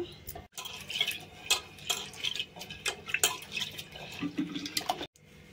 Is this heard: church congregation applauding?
no